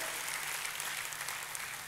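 A church congregation applauds for God during a worship service, giving dense, sustained clapping from many hands, fairly distant and even throughout with no voices over it.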